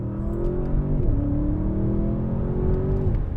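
Audi S8 4.0 V8 with a 48-volt mild-hybrid system and eight-speed automatic revving hard, a steady deep drone that climbs, then dips and rises again through a gearchange, close and loud with no voices.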